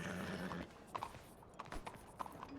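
Horse hooves clip-clop at an uneven walking pace in a video game, a series of light, fairly faint hoof strikes over a steady background wash with no talking.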